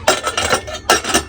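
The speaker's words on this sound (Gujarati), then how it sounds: "અને હવે કરી નાખીએ આપણે કુકર બંધ" A pressure cooker lid being fitted and closed over a pot of salted, boiled vegetables, giving two close bursts of metallic clinks and scraping, the second after a brief pause.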